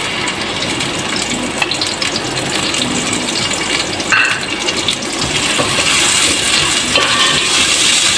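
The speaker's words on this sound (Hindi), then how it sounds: "ये आधा कप ऑयल जो मैंने लिया था वो मैं इसमें डाल रही हूँ। इसके साथ ही मैं इसमें डाल दूँगी जो हमारी प्याज हमने काट के रखी थी वो।" Chopped onions fry in half a cup of hot oil for a Baingan Aloo bharta, giving a loud, steady, broad sizzle and crackle throughout with no talk.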